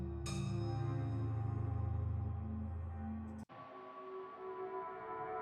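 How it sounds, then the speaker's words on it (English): Eerie, abyssal ambient music for Bazzoxan in the Barbed Fields plays alone: sustained low droning tones with a high shimmering layer, cut by a sudden break before a thinner drone resumes. "Pretty eerie, scary, abyssal, strange music for that fits well with the Barbed Fields"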